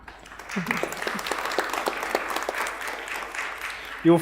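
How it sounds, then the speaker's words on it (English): A symposium audience claps after a panel remark on diverse equality, giving steady, moderately loud applause with a brief voice near the start and another at the very end. "I think that deserves some applause"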